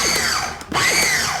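A food processor pulses in short motor bursts, a high whirring drone that dips briefly mid-clip and then revs back up, loud and close with no talking.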